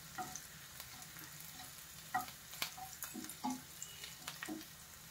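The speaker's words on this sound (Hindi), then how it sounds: "7 से 8 लहसुन की कली और 1 इंच अदरक के टुकड़े को हमने बारीक कट कर लिया है और इसे गोल्डन ब्राउन होने तक फ्राई कर लेंगे।" Seven or eight finely chopped garlic cloves and an inch of ginger fry in rice bran oil, a soft, steady sizzle broken by periodic spatula scrapes and stirs, close but quiet, with no talking.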